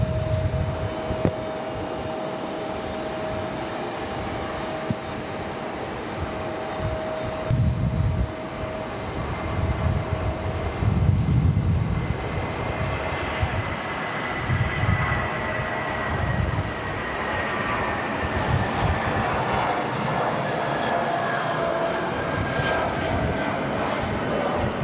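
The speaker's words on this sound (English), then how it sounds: "JetBlue getting a move on" A JetBlue jet airliner moves at Raleigh Durham airport, its engine rumble steady and moderately distant through the whole stretch, with a broad roar that swells and eases slightly but never stops.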